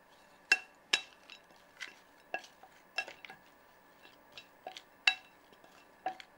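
A spoon mixes idli chaat ingredients with black salt in a bowl, producing crisp, irregular metallic clinks and taps against the bowl in a loose rhythm over otherwise quiet surroundings.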